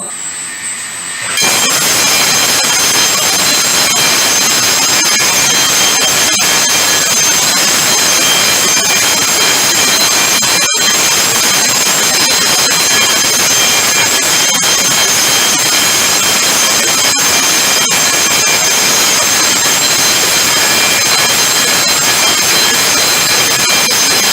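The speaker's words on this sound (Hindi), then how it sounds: "जैसे ये पंप चलता है तो ये बेल किस तरह ये बजती है ये आप देखेंगे" A water pump runs loudly and continuously from a sudden start, with a steady high ringing tone from an alarm bell, or gong, over the broadband roar and a few sharp clicks along the way.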